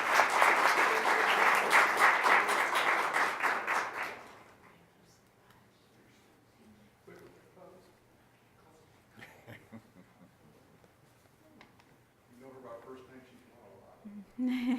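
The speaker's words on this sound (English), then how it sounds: "let's give her a round of applause" Applause for an art teacher at a county commissioners meeting, loud and dense for about four seconds before cutting off, followed by quiet room sounds and brief shuffling.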